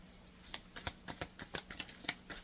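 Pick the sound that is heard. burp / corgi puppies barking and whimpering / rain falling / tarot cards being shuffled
tarot cards being shuffled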